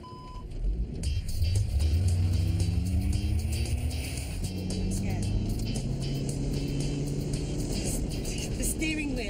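A self-driving car starts up and accelerates, its engine rising in pitch through several gear-like sweeps, loud and close, while people talk inside the cabin.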